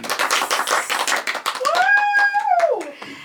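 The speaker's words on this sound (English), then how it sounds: "Round of applause from the audience." Hand clapping from a studio audience greets the presenter of a rag quilt tutorial, a quick burst of claps ending in a rising and falling tonal sound near the close.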